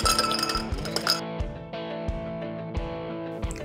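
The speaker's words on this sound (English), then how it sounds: "We're gonna add fresh ice into the glass." Fresh ice cubes dropped into a glass while mixing a Long Island iced tea variation, a quick run of bright clinks and knocks that taper off, with no talk.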